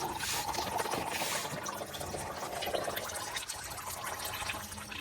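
Transmission fluid from a 2024 Honda Ridgeline drains out of the plug hole into a catch pan, a faint steady pour and trickle with no talk over it.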